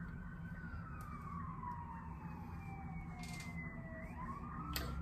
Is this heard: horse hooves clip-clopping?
no